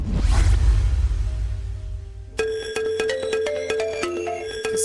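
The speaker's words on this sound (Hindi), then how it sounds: "किसका फोन है?" A phone ringtone rings out in a steady tonal melody, entering abruptly midway after a low rumbling whoosh, with repeated bright pulses continuing to the end.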